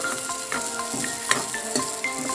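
Peanuts roast in hot oil for Sambalpuri idli chutney, a dense steady sizzle with light stirring clicks and scrapes, close and without talk.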